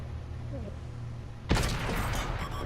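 A tank's main gun fires in World of Tanks on PS4, one sudden loud blast partway through after a quiet stretch, followed by a rumbling, crackling tail of explosion noise.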